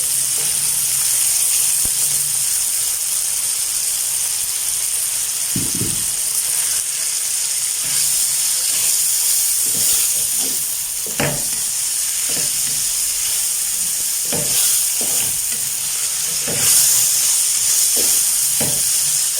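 Spring onions, green onions and carrots sizzle steadily in hot oil for a Chinese biryani, a constant frying hiss with occasional clinks and stirring scrapes.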